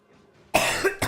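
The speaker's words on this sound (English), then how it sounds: "Still got a bit of a cough" A single sharp cough close to the microphone, followed by a brief second burst, after a moment of near silence.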